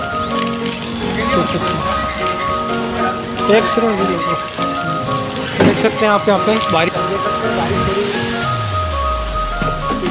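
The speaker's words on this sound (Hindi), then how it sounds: "बारिश आ रही है, पानी भर रहा है" Rain patters steadily on a surface at a petrol pump while a person talks over it, with music and a low rumbling sweep near the end.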